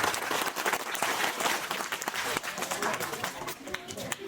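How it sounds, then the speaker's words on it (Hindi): A crowd at a village government primary school gathering claps to welcome visiting parents, sharp uneven hand claps rising and falling over several seconds, with voices talking over the clapping. "इनके लिए जोरदार तालियां बजा करके इनका स्वागत करें"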